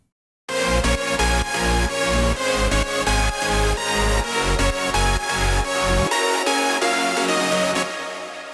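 Melodic synth layers from a 2015 Tomorrowland ID play as a steady pumping chord riff, loud and even, with rhythmic sidechain ducking that drops out near the end, leaving a fading tail with no voices.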